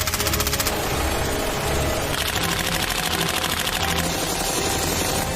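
Rapid, dense bursts of gunfire crackle in continuous fusillades, loud and close, shot following shot with no gaps and no voices.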